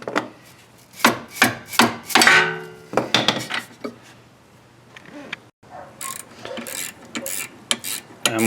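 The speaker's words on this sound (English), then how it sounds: "we're going to take a 14mm and break loose the caliper bolts" Metal tools clack and ratchet in sharp, irregular bursts as a 14mm wrench breaks loose the rear brake caliper bolts on a Kia Sedona, close and fairly loud with brief pauses between strikes.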